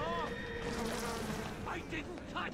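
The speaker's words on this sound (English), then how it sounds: "The bees!" Bees buzz in the video game Bioshock, a wavering insect drone over steady game sound, with short rising tones near the end.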